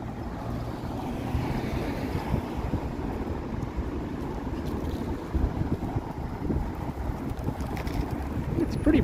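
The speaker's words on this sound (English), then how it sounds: "It's pretty blustery out here." Strong, gusty late-November wind outdoors on a Toronto evening, buffeting the microphone in a steady low roar that swells louder near the end, with no voices.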